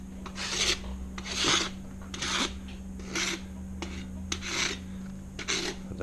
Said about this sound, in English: This is the rasp I usually use.